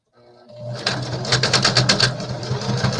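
A sewing machine stitching flannel pieces during quilting, starting up after a brief quiet and running in a fast, rattling burst of rapid needle strokes, close and loud, with slight irregular noises in the mechanism.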